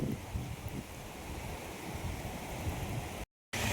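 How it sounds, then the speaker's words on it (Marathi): Flood water rushes at full force during torrential Konkan monsoon rain, a dense, unbroken roar that fills the whole short stretch and cuts out abruptly just before the end. "फुल फोर्सने येत आहे पाणी"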